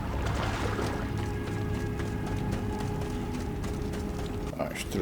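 A horse swimming in the video game Assassin's Creed Odyssey makes a steady, dense watery splashing and churning that lasts throughout, with a voice faintly present underneath.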